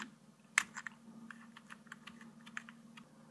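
Keys tapped on a DBPOWER A8 mechanical-feel keyboard, a series of light, irregular clicks close by over a low steady hum, one press sharper than the rest.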